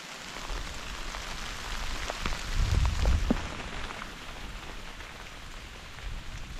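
Rain pours down during a mountain storm with wind blowing around 15 miles an hour, a dense steady hiss of drops with a brief louder gusty rumble midway.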